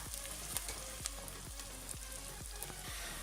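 Onions sizzle and fry in mustard oil in a pan, a steady close hiss with a few soft periodic scrapes as they are stirred, heard alone without talk.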